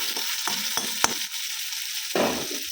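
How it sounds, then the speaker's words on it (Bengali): Four eggs sizzle as they go into a hot pan for a Bengali egg dish, steady close frying hiss with a few sharp clinks and stirring scrapes, no talk. "ওই তো 4টে ডিম দিয়ে দিচ্ছি"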